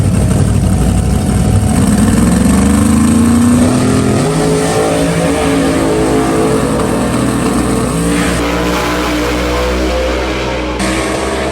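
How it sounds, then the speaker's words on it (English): Drag race car launching hard from the staging line and accelerating down the strip at full power, a loud, close engine roar climbing steadily in pitch and then holding near the top as the run continues. "then I sat and boosted the car."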